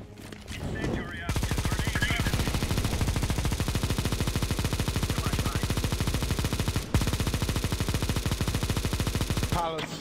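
Rapid automatic gunfire in Counter-Strike: Global Offensive, a long sustained burst of evenly spaced shots hammering for about eight seconds after a brief lead-in, loud and close.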